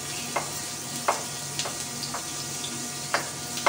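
Garlic sautés in a pan for chicken adobo, a steady soft sizzle broken by occasional light clicks of a utensil stirring against the pan.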